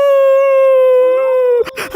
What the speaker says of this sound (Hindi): भाई भाई, सारे कुत्ते आ गए क्या?